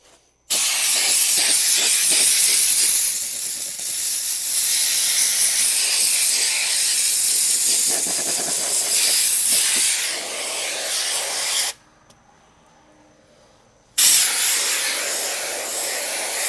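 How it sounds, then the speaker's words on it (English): Compressed air hisses from an air hose in loud, steady blasts to clean a greasy, grimy XTool D1 Pro laser engraver, stopping briefly near the end before one more burst. "So now I'm gonna take my air hose."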